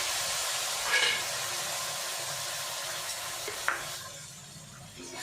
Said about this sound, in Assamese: ভালকৈ লৰাই দিছোঁ। এতিয়া মই মিক্সিত পিচি থোৱা বিলাহী দি দিছোঁ।